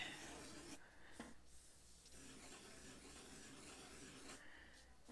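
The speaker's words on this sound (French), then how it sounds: "tant qu'à dessiner sur du papier, on va se gâter" Pencil sketching on paper: soft, close scratchy strokes rub and rasp in short bursts with brief pauses between them, quiet and alone.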